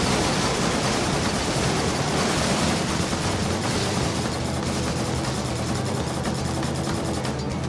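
Weapon fire in the vehicle combat game Pressure Overdrive: a dense, continuous roar of rapid shots and explosions with engine noise underneath, loud and unbroken throughout.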